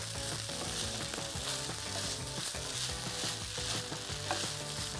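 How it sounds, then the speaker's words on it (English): Chopped scallions stirred into turkey fried rice sizzling in a hot pan, a steady dense frying hiss with a scraping stir running throughout, loud and close, no voices. "I'm gonna add in our scallions into here. And again, mix it all up."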